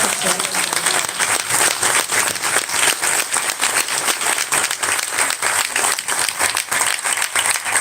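Loud, sustained applause from an audience welcoming a woman minister of Women, Gender Policy and Sexual Diversity at a legislative proposals presentation, dense steady clapping filling the whole stretch with crowd noise.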